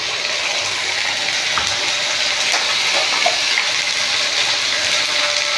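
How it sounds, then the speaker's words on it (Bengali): Water pours steadily into a pot of spiced potato curry with ground ginger, garlic, cumin, chilli and turmeric, making a continuous close rushing splash throughout. "একটু জল দিয়ে দিলাম।"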